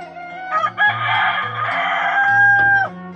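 A rooster crows loudly and close among KUB and Arab chickens in a coop, one long drawn-out call with clucking hens around it.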